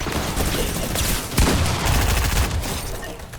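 Rapid gunfire bursts from a weapon in Fortnite, loud and dense across the whole stretch, with a sharp jump in intensity partway through and continuous rattling shots with no talk over them.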